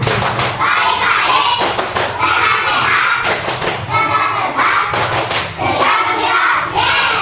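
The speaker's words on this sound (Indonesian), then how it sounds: "Tepuk apa kabar?" Classroom of children doing a rhythmic group clapping routine, with loud broadband claps repeating in bursts across the whole stretch, mixed with young voices.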